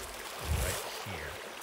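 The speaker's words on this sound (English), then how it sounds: "this nice little waterfall." A small waterfall at the edge of a property in Georgia gives a steady, soft rushing wash of water, fairly faint and continuous throughout, with a couple of low dull thumps.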